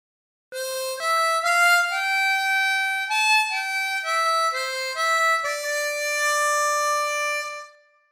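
A slow harmonica melody of Danny Boy, single sustained reedy notes stepping up and down, played close and alone before fading out at the end.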